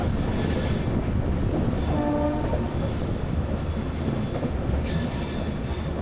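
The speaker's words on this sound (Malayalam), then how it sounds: "വളരെ പതുക്കെയാണ് ട്രെയിൻ പോയിക്കൊണ്ടിരിക്കുന്നത്." A train creeps slowly around a sharp curve on a mountain ghat route over the Western Ghats, its wheels squealing against the rails in long steady whines over a constant rumbling roll, close and loud with no talk.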